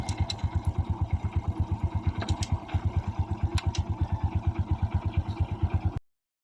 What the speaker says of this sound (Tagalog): Goods din ang tunog ng kanyang makina.